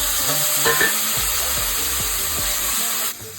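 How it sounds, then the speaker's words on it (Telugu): Blended brinjal gravy and tomatoes hit a hot pan and sizzle steadily while being stirred, with soft scraping knocks under a continuous close hiss that drops away abruptly at the end. "ఇందాక మనం మిక్సీ చేసి పెట్టుకున్న వంకాయ గ్రేవీ కూడా ఇలా వేసేయండి"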